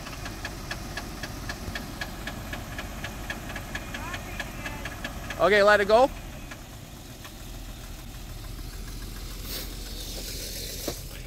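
A 2004 Jeep Liberty Renegade with a cold-start engine fault idles quietly with a faint knock, then gives a short rev before settling back; someone speaks briefly over the engine.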